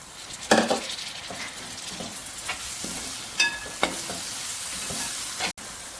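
Tomatoes are stirred into a frying ginger-garlic masala, bringing a constant sizzling hiss with frequent close scrapes and clinks of a spoon against the pan.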